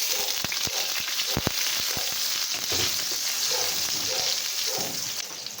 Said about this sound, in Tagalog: gisa muna natin ang ating mga rekado. Unahin na natin yung ating bawang